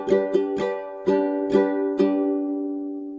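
A ukulele strums the rhythm of the One Piece opening in about six bright chord strokes in an uneven pattern, with the last chord left ringing and fading, playing alone.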